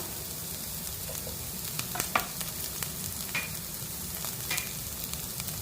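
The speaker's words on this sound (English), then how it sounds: "those are cooking down. Let's add in the mushrooms" Mushrooms cooking down in a soup pot, with a soft, steady sizzle and a few sharp scrapes and clinks from stirring, fairly quiet and with no voices.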